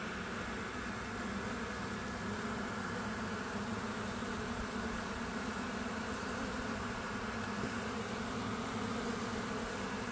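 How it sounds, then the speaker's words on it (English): A swarm of honey bees buzzing in a dense, continuous drone that fills the air, steady and close with no pauses. "If I can catch the queen, I catch the swarm."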